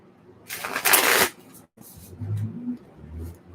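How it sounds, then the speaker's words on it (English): Tarot cards are shuffled up close in a quick riffling burst lasting under a second, followed by softer card handling and faint low murmuring. "So one more shuffle here."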